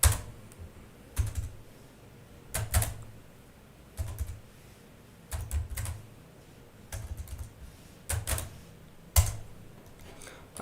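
Someone types on a computer keyboard, with short bursts of close, crisp key clicks separated by brief pauses, heard on their own in a quiet room.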